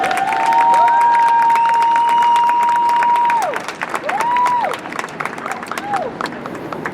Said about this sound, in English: A big round of applause for our 2024 Columbus Day Parade Chairman, Scott Harris.